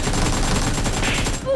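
Rapid bursts of gunfire in the mobile battle royale game PUBG Mobile, a dense fusillade of shots filling the whole moment, loud and close, with a voice briefly audible near the end.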